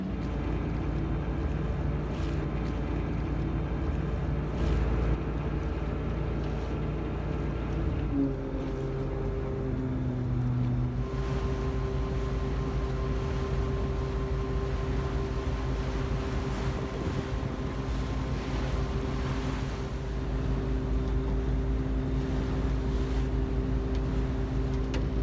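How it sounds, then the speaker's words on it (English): A small harbor ferry crosses the water in Stockholm, its engine a low, constant drone with shifting hum tones under a soft rush of wind and water. "We're going to take a little ferry ride across the water."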